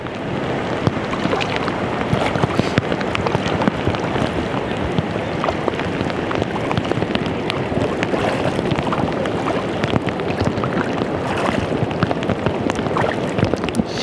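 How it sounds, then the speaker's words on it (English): Heavy rain falls outdoors, a dense steady patter and hiss that stays loud and close throughout with no voices over it, mixed with some wind. "It's raining awful hard out here."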